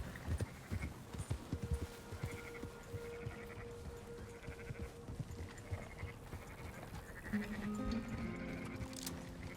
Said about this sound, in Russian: Да, овечкам пройти.